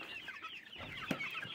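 Chickens cluck softly in a farmyard at feeding time, several short overlapping calls at close to middle distance, fairly quiet, with no talk.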